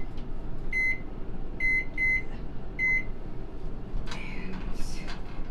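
Setting an oven timer while baking mini blueberry cheesecakes brings four short, clear electronic beeps, two close together in the middle, over a steady kitchen hum, followed by a brief scrape or rustle.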